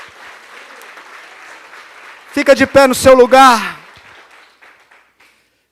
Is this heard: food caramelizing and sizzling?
no